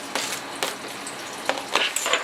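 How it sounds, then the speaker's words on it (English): Chopped garlic and onion drop into a hot pot and sizzle steadily, with a few light scrapes and clinks of a utensil against the pan, close and fairly loud. "This is the garlic and onion. I'll just put it right in here"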